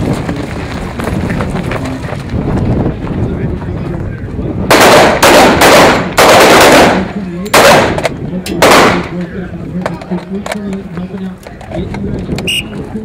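A live fire skills test at a shooting range: loud close gunshots fire in a rapid cluster of sharp cracks, with a pause between the strings of shots. A range officer calls out commands before and after the shooting.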